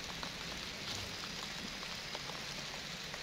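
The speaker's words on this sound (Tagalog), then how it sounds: "Inabutan na nga tayo ng ulan." Steady rain pours down outdoors on a farm field where seed and fertilizer are being spread ahead of Typhoon Pepito, a continuous dense patter of drops with no voices.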